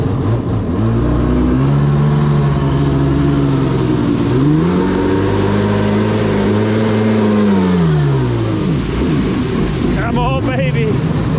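A jet ski engine that had sat unused for years runs loud and close, rising and falling as it revs, while people talk over it.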